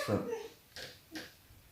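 A puppy makes a few faint whimpers, one short cry at the start and then two soft breathy squeaks spaced apart in a quiet room.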